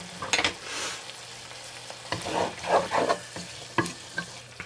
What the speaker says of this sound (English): I'm going to get that all stirred in.